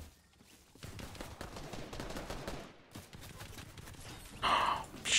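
Rapid gunfire in the Fortnite video game, quick bursts of shots under quiet game noise, ending in louder pickup-like chimes.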